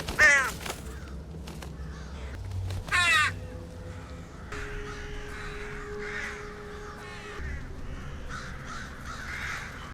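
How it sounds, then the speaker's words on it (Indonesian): A flock of crows caws, with harsh calls bursting out at the start and again a few seconds later. Fainter cawing follows over a continuous low ambient rumble. "segerombol gagak membuat mereka semu-semu was-was dan memutuskan untuk putar arah"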